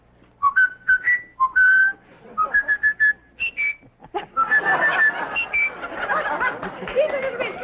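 A man whistles a short tune in bright, choppy phrases. Chatter and light laughter from a studio audience follow.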